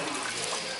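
Bright splashing rush of water drawn from the well of Sidi Rihan in Cairo, steady and fairly close for under a second.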